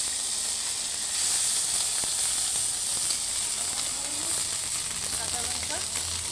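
Onion paste frying in a pan gives a continuous bright sizzle and hiss, fairly close and steady throughout, with faint scrapes and no clear talk over it.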